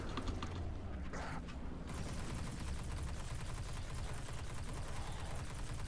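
Sustained rapid automatic gunfire from a weapon in Destiny 2 runs as a dense, continuous rattle almost throughout, with a few separate shots at the start.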